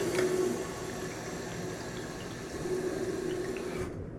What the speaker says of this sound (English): So we're gonna put them on the sink and then start filling them up.